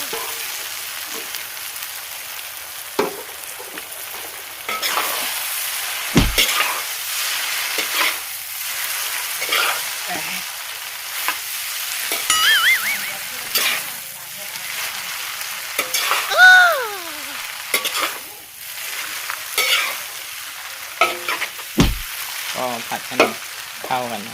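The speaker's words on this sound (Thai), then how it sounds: "เอาเส้นลงไปผัดก่อนเลย" Mee sua noodles are stir-fried in a pan, with steady sizzling broken by repeated scraping and clanking strokes of a utensil against the pan, close and fairly loud.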